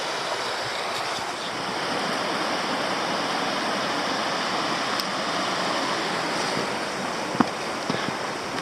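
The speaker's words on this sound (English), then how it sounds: "here's the other cascade. Quite nice on its own." A forest cascade at Black Glen Falls, Tasmania, rushes in a steady, broad roar of falling water, constant and fairly close, with a couple of faint knocks and no talking.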